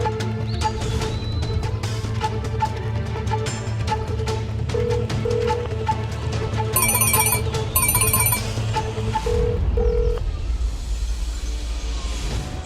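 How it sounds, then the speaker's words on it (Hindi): A mobile phone ringtone plays in repeated chiming bursts with short gaps, moderately loud indoors over a steady low hum, with a brief brighter trill partway through. "उठाओ फोन प्रीति जी, फोन उठाओ।"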